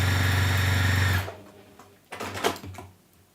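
A sewing machine stitches down scrappy fabric pieces for a bunny pouch in a fast, even mechanical whir, then stops abruptly, leaving a few quieter handling knocks and rustles.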